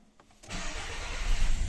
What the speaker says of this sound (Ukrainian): Зараз продемонструю, як двигун запускається та працює.